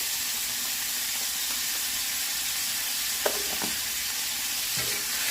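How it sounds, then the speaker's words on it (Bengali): Chepa shutki dried fish fries with salt in a pan over a low flame, giving a constant even sizzle and hiss with a few brief clinks of stirring, and no voices. "ভালো করে ভেজে নেব। অল্প আঁচে ভাজতে হবে"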